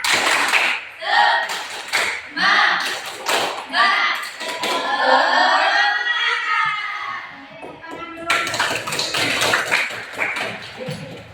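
A classroom group of children claps a rhythmic cheer clap in unison, sharp repeated bursts mixed with a teacher's and kids' voices calling out around them, fairly close and lively.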